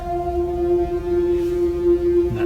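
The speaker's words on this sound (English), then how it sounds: "Now you can hear the resonator resonating." A RedShrike synthesizer resonator rings on a noise source as a steady, pure sustained tone with faint overtones above a soft hissy bed, alone and unbroken.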